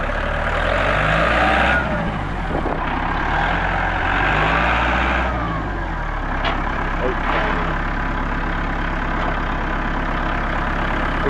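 An old tractor engine rumbles loudly up close with a heavy low-frequency drone, its pitch rising and shifting as it revs, with a voice speaking over it.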